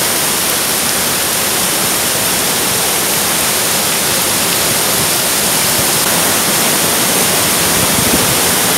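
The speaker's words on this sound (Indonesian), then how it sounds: "Air terjun ini mirip Curug Jinjing ya, yang ada di bawah Curug Gado Bangkong, Cisayong." Steady broadband roar of water at a hidden waterfall, Curug Ciung, in a natural setting near irrigation channels, constant and loud throughout with no voices.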